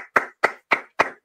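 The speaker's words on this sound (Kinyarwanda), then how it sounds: "Mwese mukoma amashyi abari hafi ya telefone kugira ngo nanjye mbahaye amashyi" Four sharp, evenly spaced hand claps ring out close to a phone during a church prayer gathering, crisp and loud with short silences between them and no talk.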